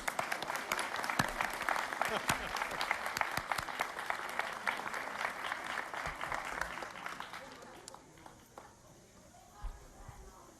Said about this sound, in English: that deserves one more round of applause